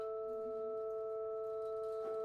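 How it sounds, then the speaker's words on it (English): Steady sustained tones of a major triad with an octave on top sound together, held evenly and softly throughout. "So now I'm playing a major triad like with an octave on top,"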